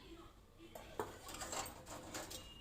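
A lid lifted off a vessel of boiling water holding brass items, giving a few metallic clanks and scrapes of pot and utensils, fairly quiet, with a soft hiss of water behind.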